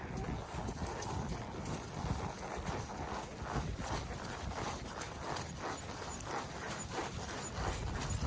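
Chestnut ponies' hooves clip-clop in a steady walking rhythm on firm ground outdoors, close by, with wind rumbling across the microphone.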